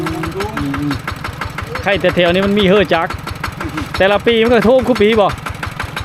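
Tractor engine running in a flooded village area, a steady low chugging idle throughout, loud and close under someone talking.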